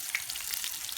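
Wild turkey bites fry in a pan with a steady, close crackling sizzle and scattered bright pops, brief and without speech.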